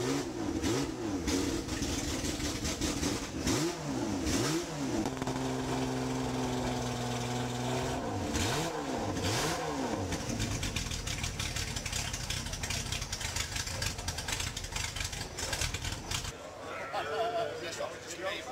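Historic race cars at the Goodwood Revival RAC TT Celebration race, including a Ferrari 250 GTO and an AC Cobra, roar past loudly in succession with rising and falling engine notes, continuous racing noise throughout.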